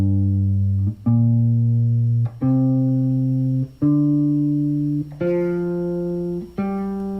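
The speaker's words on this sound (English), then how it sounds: "we're going to play just a single note on each one of the scale, but we're going to play all down strokes" Single clean guitar notes picked one at a time with all down strokes, each struck with a firm attack and sustained, stepping upward through a minor pentatonic scale at an even, unhurried pace.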